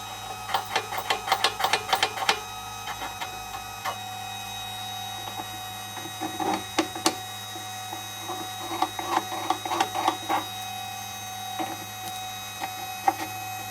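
A drill bit sharpening machine grinds a drill bit in short, faint, clustered bursts of scraping and ticking, with pauses between, over a steady low hum.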